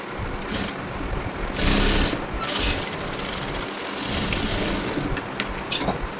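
A sewing machine stitches a blouse seam in short, fast rattling bursts that stop and restart, heard close and fairly loud over a steady mechanical hum, with no talking.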